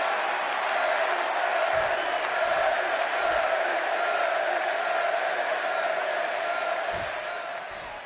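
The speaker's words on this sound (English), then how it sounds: "And just listen to this crowd here in Chicago." Arena crowd in a Chicago wrestling video game, CM Punk facing Eddie Guerrero, roars in a steady, dense wall of cheering and noise that holds for the whole stretch, loud and continuous, easing slightly at the end.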